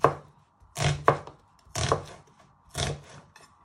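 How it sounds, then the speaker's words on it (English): A knife slices a shallot on a cutting board, four or five crisp, close chopping strokes, each a sharp tap followed by a short scraping trail, spaced about a second apart. "you just want to slice it into pieces"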